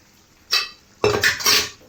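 Vegetables for pav bhaji are being stirred in a pan, giving a few short metallic scrapes and clinks of a utensil against the pan in quick, separate bursts, close and fairly loud, with no talking.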